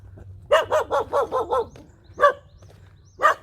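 A farmyard dog (a yellow mixed-breed) barks in a quick run of about six yelps, then twice more after pauses, loud and close with a low hum beneath.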